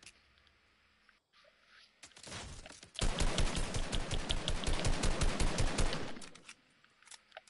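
Automatic gunfire in a shooter video game, a loud rapid burst of evenly spaced shots lasting about three seconds after a couple of short shots, with quieter sound before and after.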